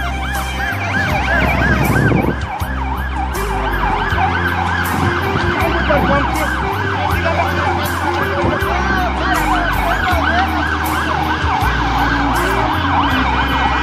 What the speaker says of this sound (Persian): آمبولانس شفاخانه